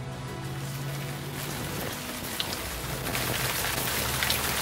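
Rain falls steadily, a constant broad hiss of drops striking surfaces that grows slightly heavier toward the end, with no voices.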